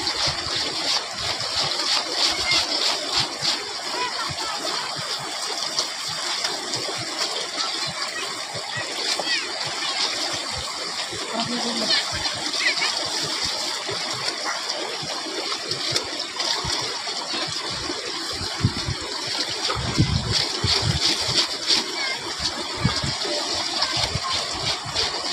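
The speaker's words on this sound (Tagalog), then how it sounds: "So maglalaba po ako dito sa ilog," Clothes are washed by hand in the Palakol River, with irregular splashes and sloshing water over a continuous wash of river noise. People talk nearby, including a voice.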